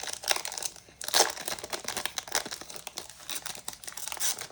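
Foil trading card pack from Topps 2026 Series One torn open by hand, a close, continuous crinkling and tearing of foil wrapper with brief louder rips and crunches, no talk.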